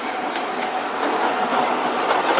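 A Virgin Trains East Coast service rolls through Doncaster station, wheels clattering over rail joints in a steady rhythmic clickety-clack that grows slightly louder midway, with no voices.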